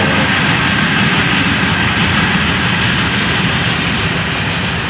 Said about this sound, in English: And the unit train,